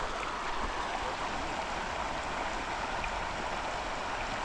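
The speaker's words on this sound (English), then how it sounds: "Listen to the trickling water." Soft, steady trickling water runs continuously and fairly quietly at a beach in Yogi Bear's Jellystone Park campground, Glen Ellis, New Hampshire, with no voices.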